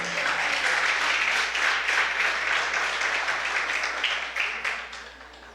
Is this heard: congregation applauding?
yes